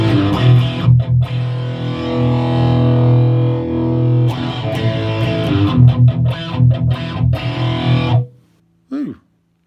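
Distorted electric guitar played through a Headrush amp-modeling rig with reverb switched off, sounding dry with sustained chords and a few choppy strums, then a short final hit after a brief gap.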